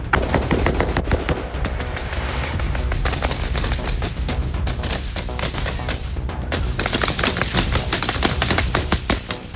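Sustained rapid bursts of automatic gunfire in wartime Ukraine, loud and close, with dense overlapping shots continuing without pause.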